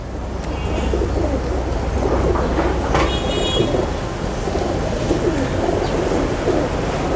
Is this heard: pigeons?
yes